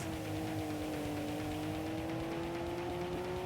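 A video-game race car in Tokyo Xtreme Racer 3, an engine-swapped Shima, holds a steady, loud engine drone whose tone rises slowly as it accelerates, with no voices.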